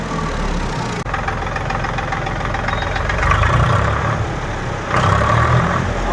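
A tractor engine idles close by with a steady, knocking chug, its pitch rising briefly twice as the throttle is nudged.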